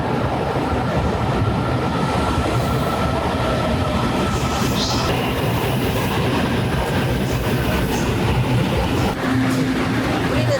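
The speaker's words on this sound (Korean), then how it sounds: "여기 타이 중에서 이제 타이베이로 건너가는 기차를 탈 거예요. 45분에 기차가 올 겁니다." A train arrives at Taichung station in Taiwan, a loud continuous rumble with rolling clatter close by, a faint voice barely audible beneath it.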